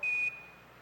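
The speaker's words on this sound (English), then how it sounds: "These are alarms that are going into the computer telling it it's overloading." Apollo 11 guidance computer program alarm, a single short steady electronic beep tone that cuts off and leaves faint background hiss.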